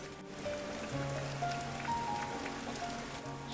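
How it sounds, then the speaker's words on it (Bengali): Heavy rain falls outside as a cartoon sound effect, a steady pattering wash with faint tonal music notes drifting beneath it. "বাইরে তো খুব বৃষ্টি হচ্ছে"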